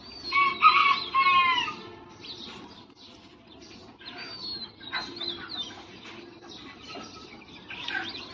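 A rooster lets out one loud crow at the start among backyard village hens in the morning, followed by scattered quieter clucks, chirps and rustling at moderate distance.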